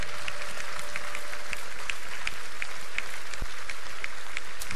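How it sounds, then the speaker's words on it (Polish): Church congregation applauding together during a healing prayer service, dense loud continuous clapping from a large crowd that fills the whole stretch. "Oddajmy Bogu chwałę oklaskami."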